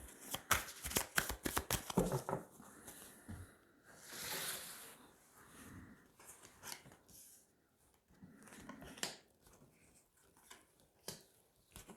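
Tarot cards are shuffled and drawn in quick bursts of riffling and flicking, close and fairly soft, followed by quieter sliding and tapping as cards are laid down, with no talk.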